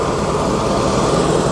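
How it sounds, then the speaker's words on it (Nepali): A plane taking off at Lukla airport, a loud continuous engine roar from nearby with propeller drone, brief and steady with no talk. "उता हेर्नु प्लेन भर्खर एउटा उड्यो"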